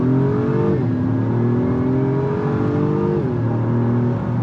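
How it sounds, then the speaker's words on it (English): An Acura MDX Type S with its 3.0-liter turbo engine accelerates hard in sport mode, a loud steady engine drone climbing in pitch with two quick dips as the transmission shifts up. "let's give it an acceleration up here, put it in sport transmission"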